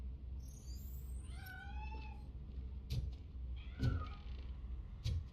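A cat meows several times while escaping in the video game Robocop Rogue City, the short cries standing out clearly over a steady low ambient hum.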